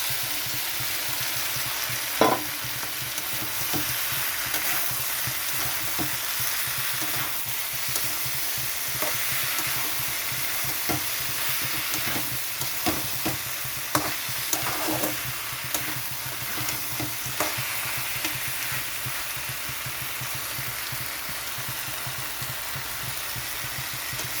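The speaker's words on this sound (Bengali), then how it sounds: "তো বাটাটা দেওয়ার পরে এরকমভাবে একটু কষিয়ে নিতে হবে।" A mustard and cashew paste fries in a pan for a Bengali shukto, with a continuous close crackling sizzle and intermittent scraping strokes as it is stirred, with no voices.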